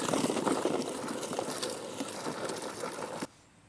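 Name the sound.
manual leaf sweeper brushes scooping up sweet gum balls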